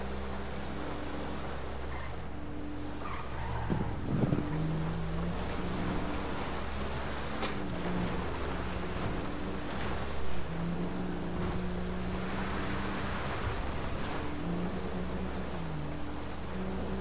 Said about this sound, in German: Jedes Mal so ein Regenwetter, ne?